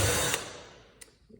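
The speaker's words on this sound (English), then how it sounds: "I'm going to use a drill to just drill a starter hole" A power drill bores a starter hole for a jigsaw blade: a loud, steady whirring burst that fades over about a second, followed by a faint click and light knocks.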